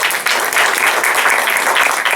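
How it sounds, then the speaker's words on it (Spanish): Audience clapping loudly at the close of a public-management lecture, a thick continuous wash of hands from start to finish at full strength with no talk. "Ok, un fuerte aplauso."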